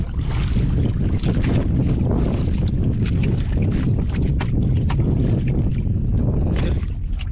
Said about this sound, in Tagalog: Kaso mga idol, lumakas yung hangin